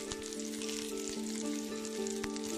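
Chicken biryani sizzles and crackles steadily in a hot pan, close and continuous, with a faint tonal hum underneath and occasional sharp pops.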